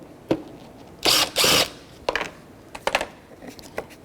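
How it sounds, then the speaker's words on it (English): A ratchet with a 10mm socket undoes a fog light mounting bolt on a 2006-2012 Toyota RAV4. A few sharp clicks are followed by two louder rasping bursts of ratcheting, then scattered softer clicks, all close and with no talking. "10mm socket, and all you need to do is undo this one mounting bolt"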